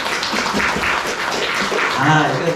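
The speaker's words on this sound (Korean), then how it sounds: "우리 박수부터 한번 칩시다" A church congregation claps during a sermon, a busy scatter of hands running steadily for a couple of seconds before a voice comes up over the fading applause.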